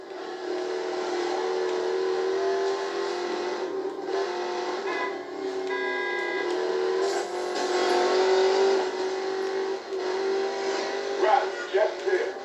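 A Ford Mustang GT in the racing game Need for Speed Payback drones steadily at high revs with shifting engine pitch throughout, loud and continuous, with people talking over it.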